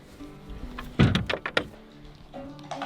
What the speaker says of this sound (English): There goes their door.